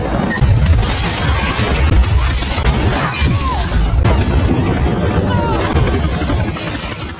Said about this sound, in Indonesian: Ledakan dahsyat mengguncang udara membuat loker hancur dalam bola api besar.